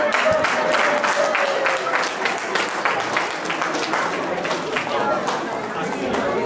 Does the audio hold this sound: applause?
yes